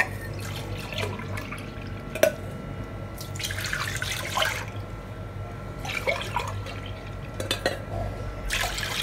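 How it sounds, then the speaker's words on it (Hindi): Two cups of milk are poured into a kadhai (wok), making soft, intermittent splashing and trickling gushes in several bursts, fairly quiet and without speech. "सबसे पहले हमने ये कढ़ाई में 2 कप दूध डालने हैं।"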